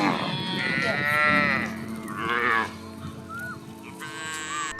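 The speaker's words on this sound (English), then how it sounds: "Proud mama of 60 plus cows." Cattle from a herd of over sixty cows moo loudly and close by in long drawn-out calls, one after another, with a faint background hum and no talk.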